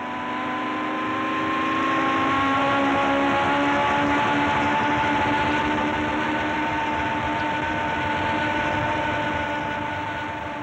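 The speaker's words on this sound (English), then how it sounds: "Now the Ferrari rockets away on acceleration" A Ferrari Formula 1 car accelerates hard, heard from onboard: a loud, sustained engine tone rising steadily in pitch with strong harmonics, droning continuously without pause.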